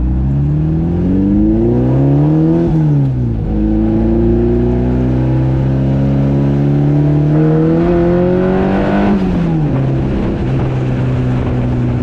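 A loud engine revs up and down repeatedly, its pitch sweeping higher then dropping back, with a steady throaty rumble throughout.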